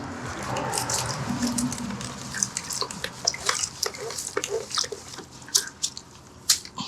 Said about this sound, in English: Give this a quick wash